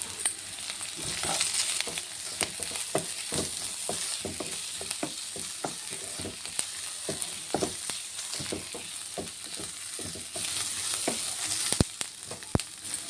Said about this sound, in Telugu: ఉల్లిపాయలు ఇంకా కొంచెం ఫ్రై అవ్వాలి.